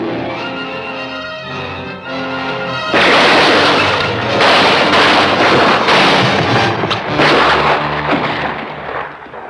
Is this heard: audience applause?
no